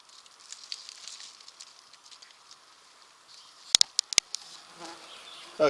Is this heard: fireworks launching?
no